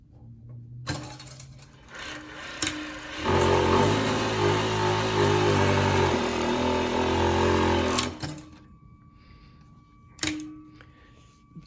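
A Consew 794-7DD overlock sewing machine stitching in one continuous loud whirring run of about four seconds, with quieter handling clicks before and after.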